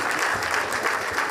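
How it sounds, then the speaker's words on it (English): Audience applause at the commissioning of an education hub in Edo State, a steady dense wash of clapping from a crowd lasting the whole moment, fairly close and even in loudness. "can you applaud His Excellency Dr. Peter Ndubisi-Mba"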